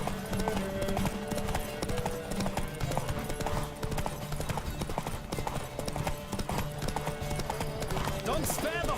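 Horse hooves clip-clop at a gallop in The Witcher 3 video game during a race, a steady rapid rhythm running under game music and occasional spoken lines.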